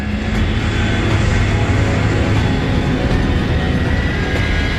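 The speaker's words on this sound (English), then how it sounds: "it was the first Vulcan starting" Loud, continuous roar of Vulcan jet bomber engines starting, broad and rumbling, holding steady throughout with no voices.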